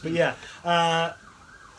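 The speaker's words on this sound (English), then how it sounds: "with the siren in the background" An emergency vehicle siren wails faintly in the street outside in Stokes Croft, a thin rising tone drifting in the distance after someone speaks briefly close by.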